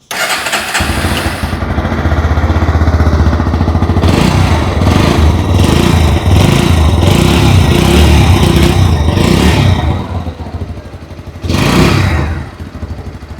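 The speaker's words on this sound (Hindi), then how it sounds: "आइए अभी सुन लेते हैं इस बाइक की एग्जॉस्ट नोट।" A 2026 Bajaj Pulsar NS125 ABS motorcycle, a 125cc bike, starts up and its exhaust burbles close to the mic, revving steadily for several seconds, dropping back to idle, then giving one more short blip.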